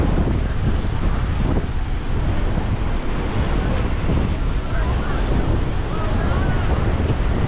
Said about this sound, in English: The tides are a bit rough right now, as you can see.